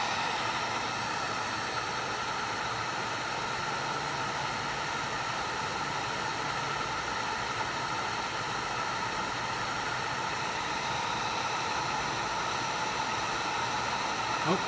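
A heat gun blows steadily on a Galaxy S3 phone screen to soften it for removal, a constant loud airy hiss that holds unbroken throughout, with no talk over it.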